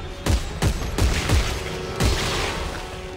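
Gunfire from the sci-fi horror video game Dead Space 3: about five sharp, booming shots spaced irregularly over a few seconds, fairly loud, with no voices over them.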